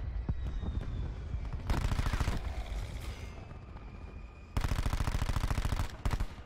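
Rapid automatic gunfire from a Cordite rifle in Call of Duty, fitted with rapid fire, long barrel, FMJ and an extended mag, rattles in long sustained bursts with short gaps, loud and close.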